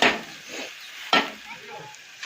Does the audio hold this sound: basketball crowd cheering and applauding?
no